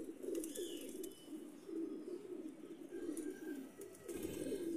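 Teddy golden breeder pigeons coo softly in repeated low, throaty phrases with short gaps between them, close by, while faint chirps and light background noise sound intermittently.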